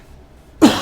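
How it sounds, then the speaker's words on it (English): A single short, loud cough bursts out near the end after a quiet lead-in. "I still have a little bit of a cough."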